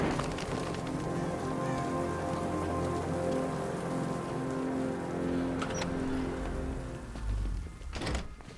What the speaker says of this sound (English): What's with all the rain?